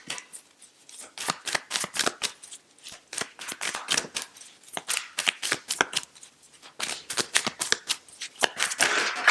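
Tarot cards riffled and handled close up in a steady run of crisp, papery flicks and snaps, bursts of rapid shuffling broken by brief pauses, with no one talking.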